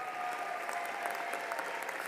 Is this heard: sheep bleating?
no